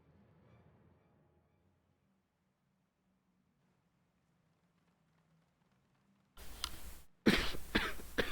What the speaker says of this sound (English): It's not always possible to mute before I cough.